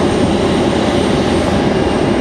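Airplane at Raleigh Durham International Airport, a steady loud broadband engine roar that holds constant throughout, with no voices.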